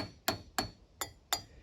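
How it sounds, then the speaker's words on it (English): A hammer strikes the steel tabs of a door handle on a 1967-1972 Chevy/GMC truck four times at an even pace, each sharp metallic tap close and clear, with no talk. "just get a hammer and tap these tabs back over"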